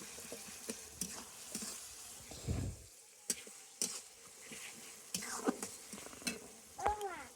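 Onions fry in a pan, with a quiet sizzle broken by repeated scraping and stirring strokes and occasional light clinks of a utensil on the pan, close and fairly soft.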